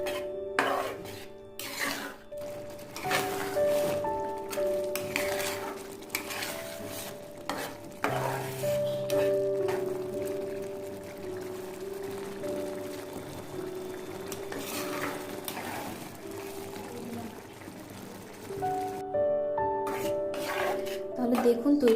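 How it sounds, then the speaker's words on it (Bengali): A spoon stirs lentils with cucumber and chopped coriander in a pot, with repeated close scraping and clanking against metal over a low simmering sizzle, continuing steadily throughout. "এবার আমি এখানে ধনেপাতা কুচিটা নিয়ে নেব। একটু ভালোভাবে নেড়ে চেড়ে দিব।"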